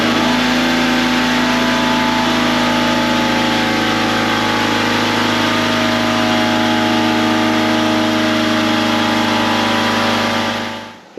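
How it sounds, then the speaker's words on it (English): An air compressor runs steadily, charging the air system for a vehicle lift in a garage, a loud continuous motor drone with a strong low hum that holds for about eleven seconds before cutting off abruptly at the end. "I've got a remote control here for my air compressor, and we're just going to go on with it."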